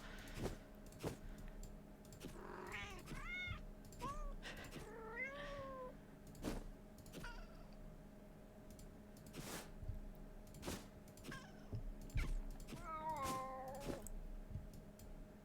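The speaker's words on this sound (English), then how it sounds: "The cat sounds, I love them." Several cats meow in turns, each call short and rising or falling, spread out over a quiet background with sharp clicks and taps scattered in between.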